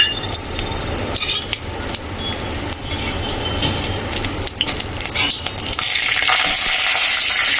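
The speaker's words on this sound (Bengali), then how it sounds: "কড়ায় তেল দিয়ে এখন দিয়ে দেবো ওই যে শুকনো লঙ্কা তেজপাতা আর পাঁচ ফোড়ন" Dry chilli, bay leaf and panch phoron frying in oil in a kadai, a steady close sizzle with scraping and metallic clinks of a spatula, growing louder toward the end, with no talking.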